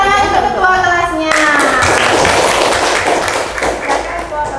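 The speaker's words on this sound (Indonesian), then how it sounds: "Beri tepuk tangan untuk ketua kelasnya." Schoolchildren in a classroom clap for their class leader, a brisk burst of many small hands that starts after a voice and continues steadily for a few seconds, fairly close and loud.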